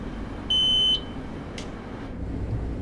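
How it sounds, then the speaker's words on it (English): A train cab alert in Train Sim World, a Long Island Rail Road train, gives one steady electronic beep lasting about half a second, followed by a brief faint chirp, over a constant low rumble of the moving train. "Alright, so that sound is saying, hey, there's a stop ahead."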